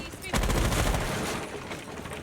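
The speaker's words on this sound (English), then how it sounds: "Gunfire coming through" Gunfire in Rainbow Six Siege during a competitive esports match, a dense burst of rapid automatic fire sustained for about two seconds, loud and close.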